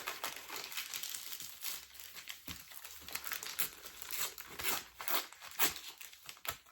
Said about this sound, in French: j'ai mon bout de papier et je l'ai déchiré vers l'extérieur de moi